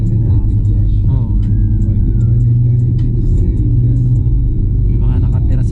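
A car drives along a steep road during a driving lesson, its engine a deep, steady rumble from inside the cabin while people chat.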